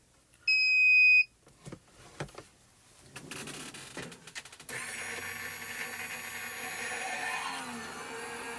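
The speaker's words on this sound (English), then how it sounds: "And then it's going to beep when it's done." A single loud electronic beep rings out for about a second as a Gemini Junior machine finishes a hot foil run, followed by clicks, handling noises and a steady motor hum.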